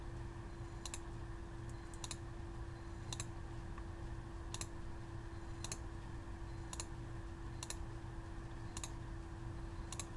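Computer mouse clicks while selecting edges in Autodesk Inventor: about nine single, crisp clicks at a steady, roughly one-second rhythm over a constant low electrical hum.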